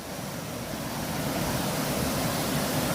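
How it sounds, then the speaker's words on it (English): A woodland stream in the Pennsylvania woods rushes in a loud, continuous broadband wash that stays steady and close throughout, with no voices. "Might be a little loud with this water here."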